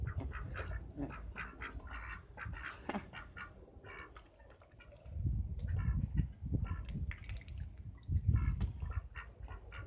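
Ducks in a bathroom quack repeatedly at close range, with overlapping calls and splashing, thumping movement in a reverberant room.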